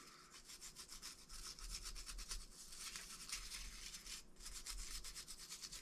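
A toothbrush soaked in 99% isopropyl alcohol scrubs a GameCube circuit board to remove flux residue, making a steady, rapid back-and-forth bristle scratching, close and continuous for several seconds with a brief pause near the end.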